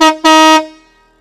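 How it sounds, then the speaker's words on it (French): An offroad vehicle's air horn, fed from an EAS air suspension system at about 9 bar, blasts two loud close toots, a short one then a longer one, with a deep boat-horn tone that cuts off abruptly. "C'est le klaxon."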